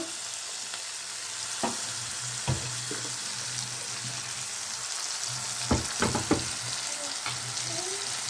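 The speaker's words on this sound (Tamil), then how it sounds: "தக்காளி நல்லா வதங்கையும், நல்லா இல்லை, ஓரளவுக்கு வதங்கினா போதும்" Tomatoes sautéing in a pan for a carrot chutney, with a soft continuous frying hiss and occasional sharp spatula knocks and scrapes, close up, with no voices.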